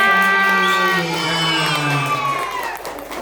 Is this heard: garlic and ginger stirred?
no